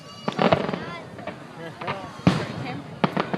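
Fireworks bursting during the 2012 Perth Amboy fireworks display, a few sharp booms and crackles amid nearby chatter from onlookers.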